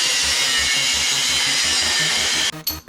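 A power tool grinds steadily through a metal mirror bracket on a 1954 Chevy rat rod during a freehand cut, a loud, close, continuous whine with rhythmic low pulses that stops abruptly near the end.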